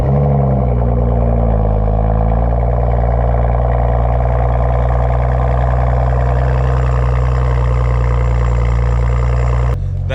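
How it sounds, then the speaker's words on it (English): A Honda Integra Type R engine on a cold start idles loudly and steadily with a strong low rumble and droning harmonics, holding an even pitch throughout before a brief click near the end. "That's a sick ass cold start."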